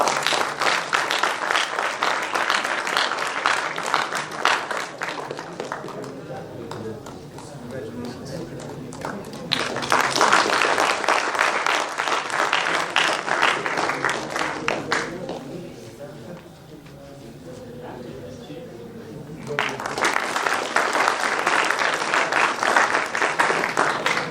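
Clapping at the ICCSR 2021 conference Best Paper Award ceremony comes in three loud bursts of dense applause, separated by quieter stretches where someone speaks.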